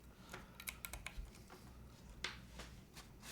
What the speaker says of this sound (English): Just actually type some stuff with this.